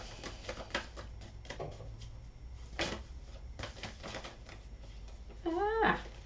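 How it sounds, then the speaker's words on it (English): Tarot cards being shuffled by hand, a run of soft, quick riffling and patting bursts close by, ending with a brief squeaky sound. "Just give it a good shuffle first."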